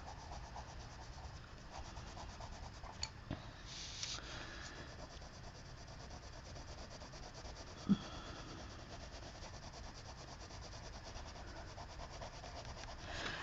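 A colored pencil rubs back and forth over paper with a soft, steady scratching. It is close and quiet, with a few faint taps, and the scratching goes on through the whole stretch with no talking.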